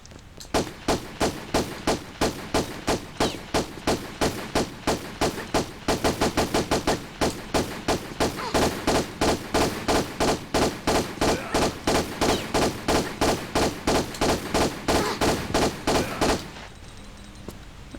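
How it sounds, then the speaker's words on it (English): Rapid, evenly spaced pistol shots ring out in a Tomb Raider custom level, dozens of loud punchy bursts firing steadily for many seconds before stopping abruptly near the end. "so I'll use my pistols for the unarmed guys."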